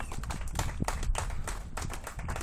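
Audience applause at a dolphin show, a dense patter of many hands clapping close by in a steady, lively wash throughout.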